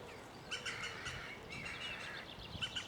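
Green woodpecker alarm calls ring out on a countryside walk near a tree where crows gather, several sharp bursts of chirping notes, faint and at some distance.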